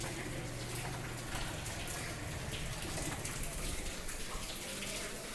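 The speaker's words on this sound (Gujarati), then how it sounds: "ચાલુ વરસાદે જવાનું." Steady rainfall makes a continuous, even hiss of drops that stays unbroken from start to finish, with no voices.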